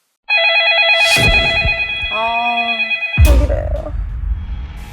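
An electronic telephone ringtone warbles loudly and continuously, broken by a couple of sharp knocks and a brief buzzing tone.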